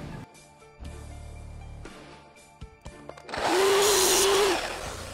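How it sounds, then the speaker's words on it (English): A miter saw cutting a 4-inch miter in wood, with a quieter mechanical hum and clicks first and then a loud, steady whining cut near the end, heard close up with no voices. "now you're ready to cut the miter. In this case, I'm gonna do a 4-inch miter."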